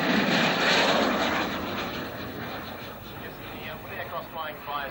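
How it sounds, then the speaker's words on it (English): Fixed-wing aircraft making a low flyby, a loud engine roar that peaks early and then fades as it passes, with a Doppler-like sweep and faint voices in the background. "The aircraft flying by, as we've just seen it"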